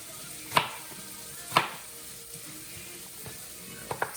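Mushroom banchan sizzles quietly in a pan over a flame, a soft continuous fry broken by a few sharp utensil clicks.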